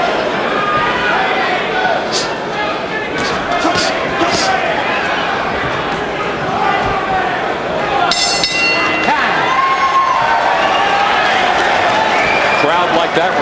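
A boxing arena crowd roars steadily after a round of the Tommy Morrison vs Jerry "Wimpy" Halstead fight, a dense wash of cheering and scattered clapping with a few sharp clinks, loud and continuous throughout.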